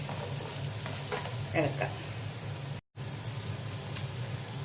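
Tomatoes for chicken machboos fry in a pan under gentle stirring: a steady soft sizzle with a few scraping strokes and a brief sudden dropout partway through, no voices.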